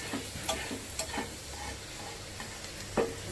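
Garlic fries in oil in a pan while momos are made, a soft steady sizzle with a few sharp clicks of stirring scattered through it, close and fairly quiet.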